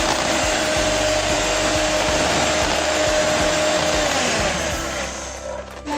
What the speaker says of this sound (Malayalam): ഇനി ഈ മുട്ട ഫ്ലഫി ആയി പൊങ്ങി വരുന്നത് വരെ ബീറ്റ് ചെയ്യാം.